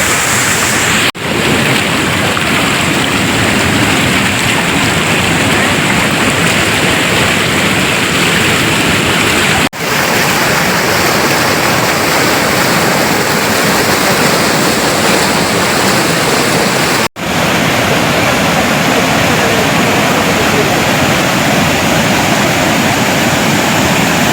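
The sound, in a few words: waterfall at Kolli Hills temple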